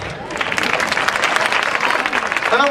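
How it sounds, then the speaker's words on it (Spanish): An audience at a circus festival in Cabeza del Buey applauds after a card trick, with a dense, steady wash of clapping that holds at moderate loudness throughout the short stretch. "Gracias por los aplausos."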